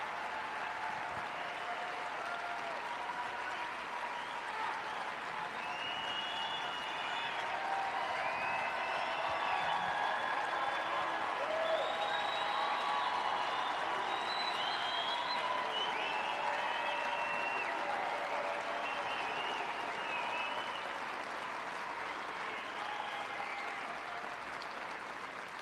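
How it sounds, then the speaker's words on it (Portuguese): Sustained applause and cheering from a large crowd at a Trump campaign rally in Arizona, steady and full for the whole stretch with scattered shouts and whistles rising above the clapping. "Aplaudido pelo público ao dizer isso."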